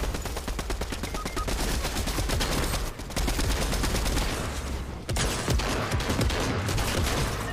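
Gunfire during video game combat, rapid automatic shots in dense, continuous volleys with two brief breaks.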